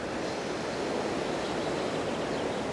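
Steady broadband rush of a waterfall heard outdoors in sunny weather, a continuous even roar with no breaks, moderately loud and alone.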